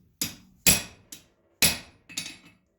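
A hammer taps a warped blade against a 100-pound anvil: five sharp, ringing metallic strikes at an uneven pace, close and distinct, with short silences between blows.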